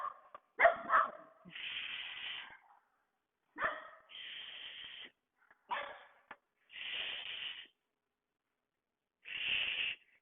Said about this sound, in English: Oh, it's my dog barking.